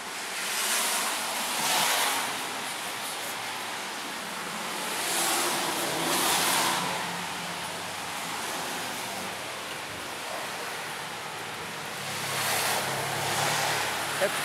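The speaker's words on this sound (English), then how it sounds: "I have to close the camera because it's really pouring" Heavy pouring rain makes a dense, steady roar of hiss that swells and fades in slow waves, loud and close, with no voices.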